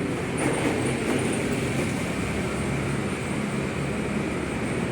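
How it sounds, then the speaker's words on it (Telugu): A continuous heavy rumble with a steady roar of a train passing overhead on a railway bridge, heard from the underpass below, with no breaks or voices. "దీనిపైన రైలు పోతుంది"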